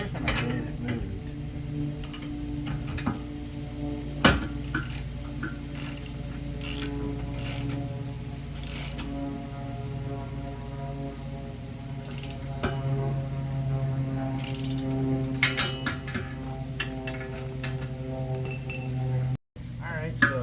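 A Wilco Offroad Hitchswing hitch is tightened by hand, giving close, repeated metallic ratcheting clicks and clinks over a steady low background rumble, with someone talking at times.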